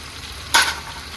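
Potatoes frying in a pan of hot oil with bay leaves and whole cumin give one sudden, sharp burst of sizzling that quickly fades back into a low, steady hiss.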